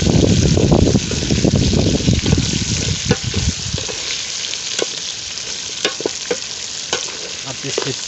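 Chopped chili frying and being stirred in a pan in a Gilgit-Baltistan village kitchen, with a loud, steady sizzle that fades somewhat while clicks of stirring punctuate it.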